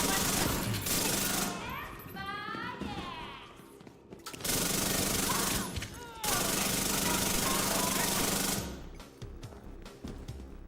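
Rapid bursts of automatic gunfire from the Chatterbox gun in a shooter game, sustained rattling volleys broken by short pauses, loud and close, under game music and effects.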